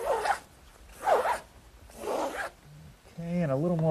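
Excess sandbox covering material being trimmed along the bottom edge, with three rasping cutting strokes close by, followed by a short stretch of talk.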